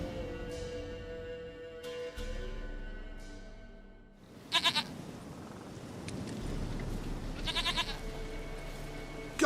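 A goat in The Witcher 3 video game bleats in two separate bursts, each a quick wavering series of near, fairly loud cries. Steady in-game ambience runs underneath and no one speaks.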